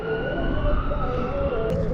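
An ambulance siren wails on a New York street, loud and continuous with steady tonal bands over a busy urban background, with no talking.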